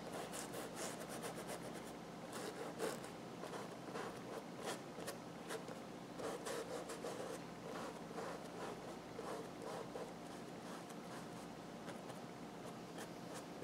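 A bristle brush scrubs sandy paint onto a painting of a sea view through a cottage window, making a soft, continuous scratchy rubbing in quick repeated strokes, faint and close, with no speech.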